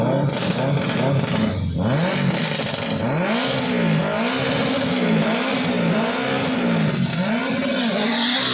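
Drag race cars roar down the strip in a loud, continuous engine blare, with rising and falling revving tones and some tire squeal across the run.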